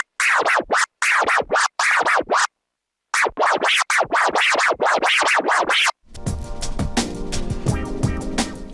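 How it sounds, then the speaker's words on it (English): Tear scratches on a DJ controller: quick bursts of rubbed, warbling record sound in clipped rhythmic groups, loud and up close, with a short pause midway, followed by a music beat playing on its own. "in this video I'll teach you how to do the tear scratch"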